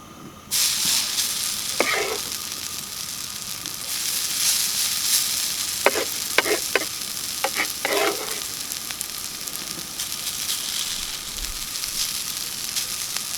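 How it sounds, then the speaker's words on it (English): Hash browns frying in vegetable oil in a hot skillet, a loud, even sizzle that starts abruptly and holds steady, broken by a handful of short scraping strokes from a spatula, close by and with no speech. "we'll go to frying. Okay, I have some vegetable oil on my skillet."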